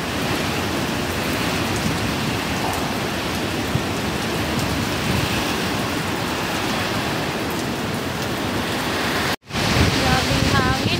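Typhoon Uwan lashes Camarines Norte with heavy wind-driven rain, a dense, loud, steady roar of rain and gusts that persists throughout, with one brief dropout near the end and faint voice traces.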